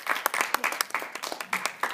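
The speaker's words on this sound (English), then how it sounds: "let's go ahead and give our second speaker a round of applause and welcome Alessandro" Scattered clapping from a small debate audience welcoming a second speaker, uneven individual claps close by with a few sharp peaks, steady for two seconds.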